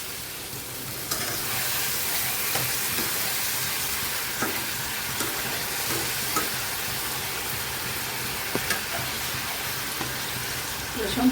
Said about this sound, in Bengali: এখন অল্প করে আমি জল দিয়ে দিচ্ছি।